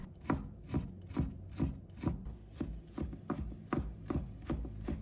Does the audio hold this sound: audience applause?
no